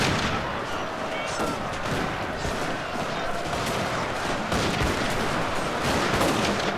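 Riflemen fire volleys in a Shogun 2 battle, a dense continuous crackle of musket fire and booming shots with no letup, loud and layered, while a voice talks faintly beneath.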